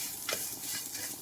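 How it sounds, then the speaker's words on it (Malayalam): Grated coconut being dry-roasted and stirred in a pan for a Palakkad-style coriander chutney gives a faint, brief scrape of a spoon against the pan over a soft, low sizzle. "ഇനി ഇത് നല്ലപോലെ നമുക്ക് ഒന്ന് വറുത്തെടുക്കാം."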